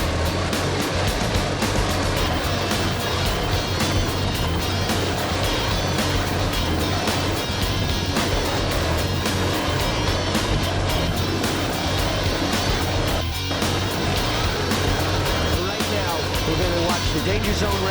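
Engines of a 38-foot Cigarette offshore racing powerboat during a 1986 Islamorada race in the Florida Keys: a constant, loud, dense roar mixed with wind and water rush, with a voice talking over it throughout.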